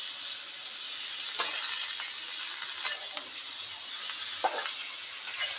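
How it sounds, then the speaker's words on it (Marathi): Brinjal (eggplant) curry sizzles steadily in a pan of hot oil, with a constant close frying hiss and occasional soft clinks of stirring. No one speaks. "आता आपण आपल्या वांग्याची भाजी थोडा वेळ शिजू देऊया."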